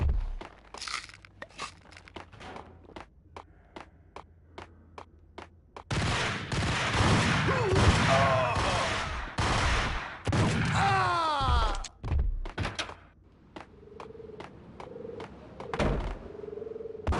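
Gunfire from the video game Max Payne: bursts of rapid shots and single cracks, with a dense sustained volley in the middle, loud and close, mixed with crunching impacts and game effects.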